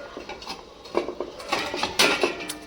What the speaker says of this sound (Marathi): पाणी उकळलं आहे. आता आपण ही जाळी ठेवून घेणार आहोत.